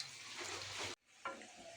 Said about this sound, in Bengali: এই যে আমার ভাজাটা হয়ে যাচ্ছে এখন। গরম গরম ভাজাটা অনেক ভালো লাগে